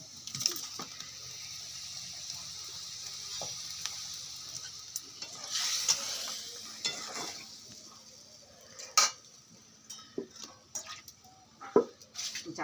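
Curry being stirred and fried for a long time in a pan, the way meat is slow-cooked. A faint, steady sizzle runs throughout, with occasional scrapes and clinks of a utensil against the pan, growing more frequent toward the end.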